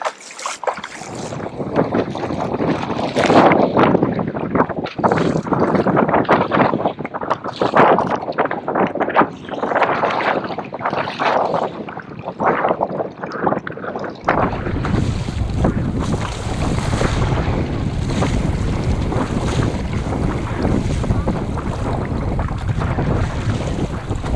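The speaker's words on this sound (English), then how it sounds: "Against the wind and against the waves coming across." Strong wind buffets the microphone and waves slap around a kayak paddling near mangroves on the Wilderness Waterway, a loud continuous roar with choppy water, no talk.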